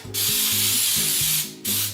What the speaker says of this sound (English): let's spray the Baker's Joy in here